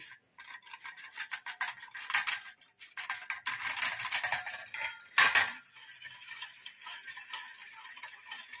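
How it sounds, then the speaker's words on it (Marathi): Cooked dal for a sweet-sour Maharashtrian varan is mashed with a wooden churner, a steady close rasping, scraping rub with quick rhythmic strokes that go on throughout, with no talk. "जे शिजलेली डाळ आहे ती छान घोटून घ्यायची रवीने"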